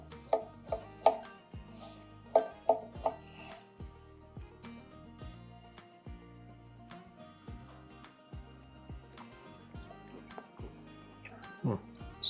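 A knife cuts a reverse-seared whole beef fillet on a board, with a steady series of sharp chopping taps through the slices, some louder bursts early and near the end, while a person talks over it.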